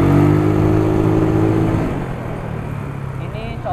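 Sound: Yamaha Mio 130cc motorcycle engine revving

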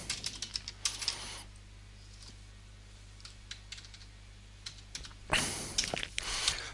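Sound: typing on a computer keyboard

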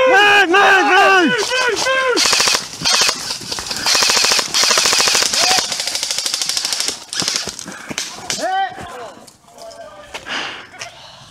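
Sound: gunfire in a video game

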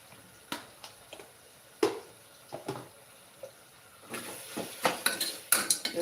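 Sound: adding ground paste to a pan and stirring

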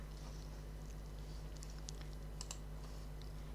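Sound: typing on a computer keyboard

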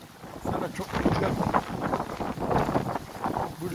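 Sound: strong wind

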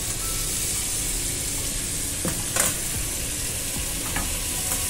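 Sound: ribeye steak sizzling in butter in a pan

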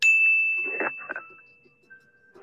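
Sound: bell ding sound effect

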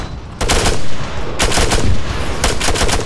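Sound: gunfire in video game Arma 3

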